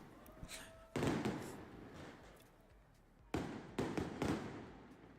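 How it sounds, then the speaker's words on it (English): Big Lunar New Year fireworks explode in a Chinatown street, close and very loud: two sharp blasts, each followed by a crackling roll, with a quieter lull between them. "When you get really close to big fireworks like this, they're freaking loud, man."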